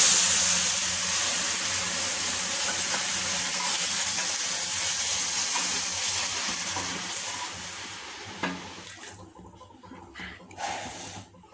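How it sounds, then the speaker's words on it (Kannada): Milk poured into a hot pan of golden roasted vermicelli for mango kheer, cooked in Healux cookware, sets off a loud continuous sizzle and hiss that slowly fades and settles toward the end. "ಇವಾಗ ಹಾಲು ಸೇರಿಸ್ಕೊಳ್ಳೋಣ"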